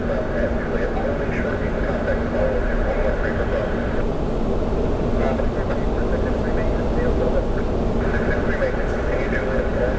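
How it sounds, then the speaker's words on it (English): A Frontier Airlines Airbus A320neo inbound at Orlando International Airport, a steady broadband jet roar heard from a distance with a faint whine, with a person talking over it. "4838 A320neo inbound from Indianapolis."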